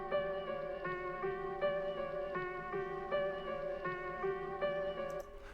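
Sombre lo-fi piano loop sample from the Loaded Samples Lo-Fi Memphis kit playing alone, soft repeating chords and notes in an even cycle with a muffled, low-fidelity tone.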